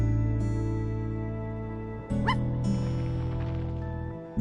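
Dog barks and yips in the video game I Am Dead, heard as a brief close burst near the middle of the clip over a steady tonal musical background.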